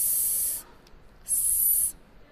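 A voice imitates the letter S in an English phonics lesson, giving two short, sharp hissing bursts separated by a brief pause, close and clear.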